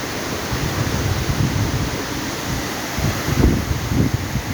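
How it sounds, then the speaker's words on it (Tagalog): A strong river current rushing past a broken, holed bridge, a loud churning roar of water that surges slightly toward the end, heard up close without speech. "Lakas ng agos, oh."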